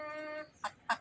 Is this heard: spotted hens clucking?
yes